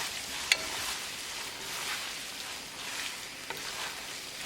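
Vegetable spaghetti with Parmesan cheese being stirred in a hot pan on a gas stove: a steady, soft sizzle throughout, with a couple of sharp utensil clicks against the pan.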